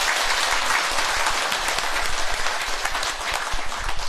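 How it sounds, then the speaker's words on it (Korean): Audience applause at a Buddhist dharma talk given by a monk, a dense, steady wash of many hands clapping together for the full length, fairly loud and even, with no voices over it. "여러분 박수 한번 부탁드릴게요."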